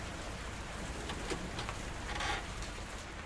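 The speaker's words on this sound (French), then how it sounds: "il pleut trop de toute façon" Rain falls steadily outdoors, making a dense, even hiss of drops on surfaces with a few slightly stronger patches, fairly quiet and without any voices.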